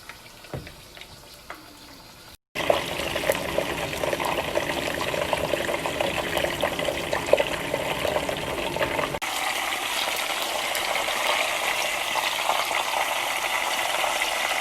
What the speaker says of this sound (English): I'm gonna fry on all sides.